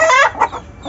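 Hens cluck and squawk loudly and close at hand in a newly stocked colony cage where the birds are fighting, a few sharp bursts within a second.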